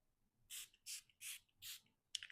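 Spray bottle pumped four times in an even rhythm, each a short close hiss of mist with pauses between, followed by a faint clatter at the end.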